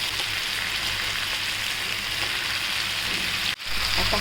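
Potato slices frying in oil in a pan give a dense, continuous hissing sizzle, loud and close, broken by one brief dip near the end before it resumes.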